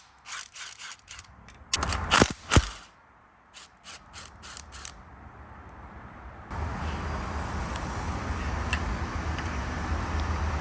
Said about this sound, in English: there's 2 12mm bolts that hold this chain damper in place, or this chain guide. So let's go ahead and remove these.